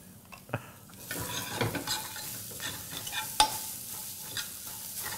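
Garlic frying in butter while being stirred, a moderate sizzle punctuated by utensil scrapes and a sharp clink against the pan, with no voices.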